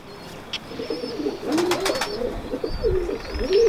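A pigeon coos a few soft, rolling calls up close over a low murmur of background noise, with brief chirps and rustles between.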